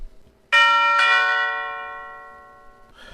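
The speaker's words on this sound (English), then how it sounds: "He pushes the button for the doorbell." Doorbell at a home at night, two bright chime strikes about half a second apart that ring on and slowly fade, alone with no voices.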